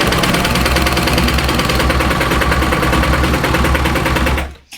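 A serger overlocker runs continuously while sewing a rolled hem on fabric, a loud, even whirring chatter that stops sharply near the end.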